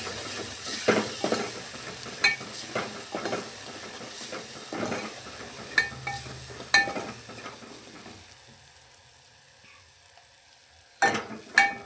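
Ingredients for a hotel-style dal tadka roast in a pan, making a soft, close sizzle under repeated spatula scrapes and taps. The frying fades quieter before a couple of loud metallic clanks at the end.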